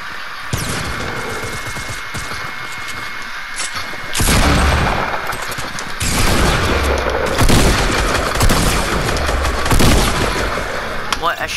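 Fortnite gunfire erupts in loud, repeated bursts and booming shots, starting quieter and swelling into sustained volleys, with voices talking over parts of it.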